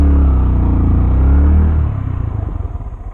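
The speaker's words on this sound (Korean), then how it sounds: "반클러치가 걸렸다 싶었을 때 스로틀을 가볍게 살짝 당겨줍니다." A manual motorcycle pulls away using half-clutch and a light throttle, the engine rumbling loud and close, then settling into a lower, pulsing idle-like chug as it moves off.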